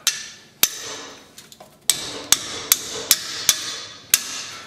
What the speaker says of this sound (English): we'll just get a hammer and tap that down